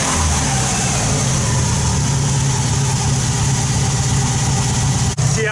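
Subaru engine idling in a four-wheel-drive Peugeot rally car build, a loud, close, steady rumble with a constant low throb, running evenly without break before a brief dip near the end.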